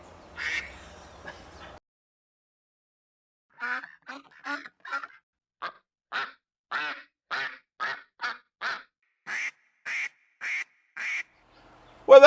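Phone ringtone of ducks quacking: a rapid series of about a dozen crisp, evenly spaced quacks after a brief low murmur, close and clear against silence.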